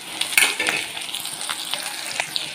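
Onion and capsicum frying in a pan for chilli beef, a bright crackling sizzle broken by sharp scrapes and clinks of stirring, close and alone without talk.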